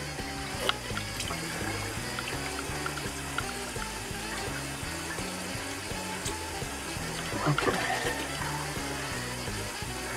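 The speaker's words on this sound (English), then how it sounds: "cold water rinse." Cold tap water runs steadily to rinse a shaving brush, a quiet continuous trickle and splash with a few faint clinks, heard on its own.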